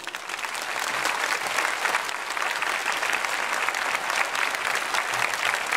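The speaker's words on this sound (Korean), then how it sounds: "나오실 때 박수로 환영합시다." A church congregation at a Sunday worship service applauds to welcome the pastor to the front, a sustained, even wash of many hands clapping that holds steady from start to finish with no voices.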